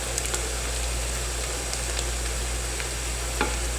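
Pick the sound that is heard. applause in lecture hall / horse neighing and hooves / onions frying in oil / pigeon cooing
onions frying in oil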